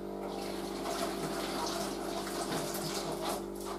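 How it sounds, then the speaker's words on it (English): Cold water runs from a kitchen tap over freshly topped produce held in a hand, a steady close rush and splatter that continues without a break. "And you're going to run them under a cold water then."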